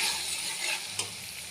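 Tomatoes and onions fry in a pan with turmeric, a brief, soft, even sizzle heard close up with one light tap partway through.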